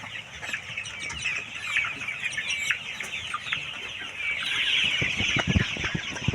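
A flock of healthy KUB 2 Janaka chickens clucks continuously at close range, with overlapping calls and a busy rustle of farm-pen background noise and no talking.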